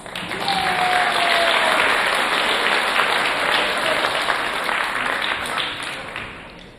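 An audience at a 5th grade moving-up ceremony gives Mrs. Farley a round of applause, steady dense clapping from many hands that holds loudly for several seconds before slowly thinning.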